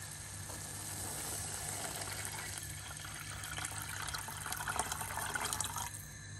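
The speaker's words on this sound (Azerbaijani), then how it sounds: "Bunu bir dəqiqə qovurduqdan sonra üzərinə soyuq su əlavə edirik." Cold water poured onto flour fried in a pot while making a creamy vegetable soup, a steady liquid rush running unbroken for several seconds with no talking.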